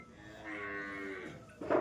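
A Murrah buffalo at a dairy farm gives a single long, low moo, drawn out for about a second, followed by a short louder noise.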